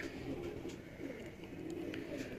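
Pigeons in a breeding setup in Lahore, Pakistan, coo softly and steadily, with low, murmuring calls that stay faint throughout.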